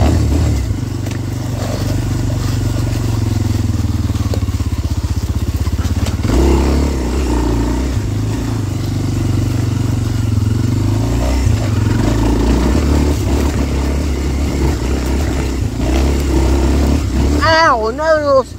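A Kawasaki KLX230R dirt bike ridden through backwoods trails, its engine droning loud and close with rising and falling revs and rattling clatter, while a rider talks over it.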